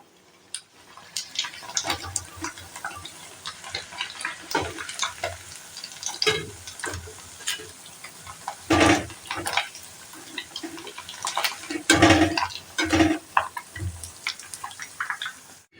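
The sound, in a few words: sweets frying in a pan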